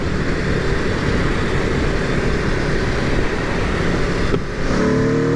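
A 2021 Aprilia RSV4 1100 Factory motorcycle with a new exhaust roars on an open road, a loud, continuous engine and exhaust drone mixed with wind that dips briefly, then climbs in pitch as it accelerates.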